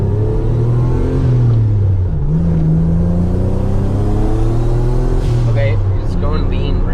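A Megasquirt-tuned car engine accelerating through the gears, heard from inside: strong revving rumble rising in pitch, a drop at a shift, then climbing again, with voices talking over it.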